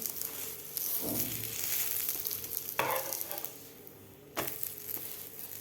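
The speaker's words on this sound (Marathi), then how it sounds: "आता व्यवस्थित आपल्याला दोन्ही साईडकडून हे फ्राय करून घ्यायचं आहे" Bread slices coated in besan masala batter fry in a hot oiled pan, giving a steady sizzle throughout with a few sharper hisses and scrapes as the toast is pressed down and turned.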